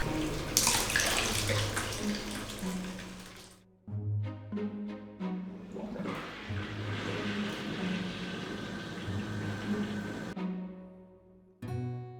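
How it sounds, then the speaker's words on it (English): A hotel bathtub in Fukui, Japan runs its water jets, a loud gushing, bubbling churn with a motor hum, cutting out briefly twice before starting again. "I realized this bathtub has freaking jets"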